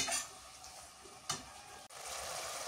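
Bottle gourd greens go into a pan with fish being fried in village home cooking, giving a quiet, soft sizzle and stirring scrape with a brief louder clatter partway through.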